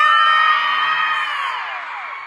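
Live show audience at a Denver stop of a surprise party tour screaming and cheering in a loud, high-pitched sustained roar that slowly fades.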